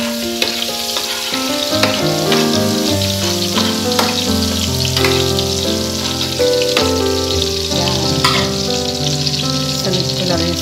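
Garlic frying in a pan, a loud, dense and continuous crackling sizzle heard up close, with music playing steadily underneath.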